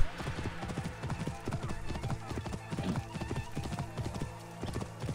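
Steady clip-clop of horse hooves trotting at a brisk rhythm in the video game Assassin's Creed Origins, close and fairly loud, with a faint whinny in the mix.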